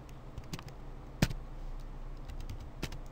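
Keys tap sparsely and quietly on a computer keyboard during a Photoshop session, a handful of separate clicks with one sharper keystroke in the middle.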